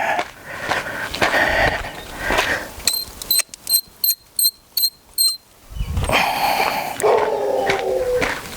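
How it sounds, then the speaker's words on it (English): A dog whimpers and yelps in a quick series of short high cries over running water and background noise. "Oh, hello dog."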